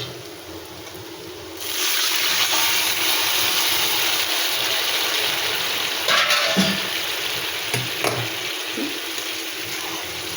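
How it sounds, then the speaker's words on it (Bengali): Hot water being poured into a pan of spiced fish curry with taro, a steady rushing pour starting abruptly and continuing, with a few clinks of utensils near the end. "এইবারে আমি এতে জল দেব এবং এর মধ্যে দেব গরম জল"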